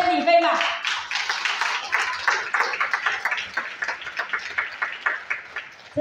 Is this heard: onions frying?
no